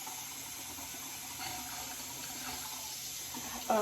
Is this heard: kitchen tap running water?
yes